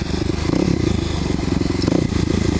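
Kawasaki KLX250sf motorcycle with a Muzzy exhaust and bore kit, engine running steadily and loud up close with a constant low throb and light mechanical clatter, no talking.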